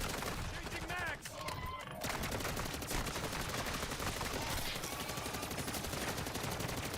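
Sustained automatic fire from an MCW rifle aimed at mimics in Modern Warfare Zombies, dense and continuous apart from a brief pause near the start, with a voice speaking under the shooting.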